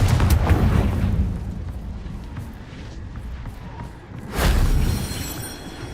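Confringo fire spell bursting in Hogwarts Legacy, heard as booming fiery explosions: a heavy rumbling blast at the start that fades, then a second strong explosive burst near the end, loud and close.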